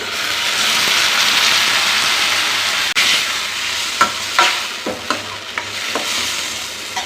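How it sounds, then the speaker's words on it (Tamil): Chopped medium tomatoes sautéing with onion and garlic in a pan for a lentil dumpling kuzhambu. A steady loud sizzle runs throughout, with a sharp knock near the middle and several short clatters of stirring toward the end, no talk. "ரெண்டு மீடியம் சைஸ் தக்காளி பழத்தை இந்த மாதிரி குட்டியாக கட் பண்ணி சேர்த்துக்கிறேன்"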